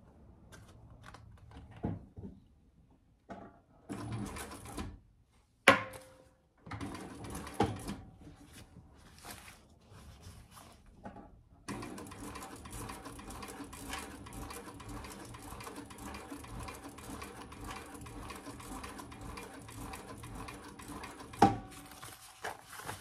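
A Thor sewing machine stitches a waist pack, starting with short slow bursts and pauses, then running in a long steady mechanical whir, with occasional handling clicks and thumps in between.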